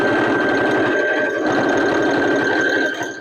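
A sewing machine runs steadily and close as it stitches the outer part of a bag, a fast even mechanical chatter lasting the whole moment with no talk.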